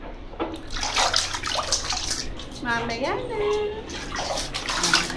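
Water sloshing and splashing in a bathtub as a child bathes, with irregular bursts of splashing and a running-water wash throughout, while adults and someone talk over it.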